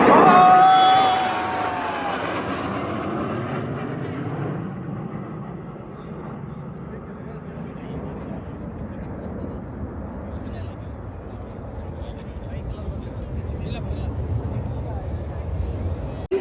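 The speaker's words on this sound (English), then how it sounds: "The Jaguars flying today are from number 5 Squadron Popular." Jaguar jets of No. 5 Squadron flying over the Republic Day parade on Kartavya Path, a loud sustained roar that swells at first and then settles into a broad rumble, with a crowd and commentary underneath.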